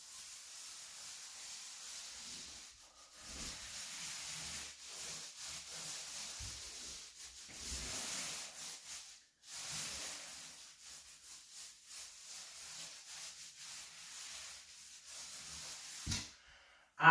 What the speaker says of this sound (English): Let's open this paint, get it stirred up